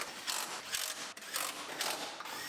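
Parts being bolted back onto a GMC Yukon frame during a frame swap give a close, rhythmic ratcheting, with repeated bursts of clicking pawl strokes in a steady cycle and no talk.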